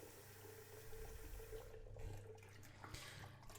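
Running water rinses photographic film during home darkroom developing, a steady broadband wash with some gurgling that stays fairly constant throughout, with no voices.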